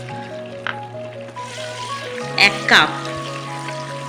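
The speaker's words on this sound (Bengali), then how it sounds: "দিয়ে দেবো 1 চামচ হলুদ গুঁড়ো আর 1 চামচ লবণ, দিয়ে কড়াইশুঁটিটাকে ভালো করে ভাজবো।" Green peas frying with cumin in mustard oil in a kadai give a soft, steady sizzle beneath a voice, broken by a couple of brief crackling bursts.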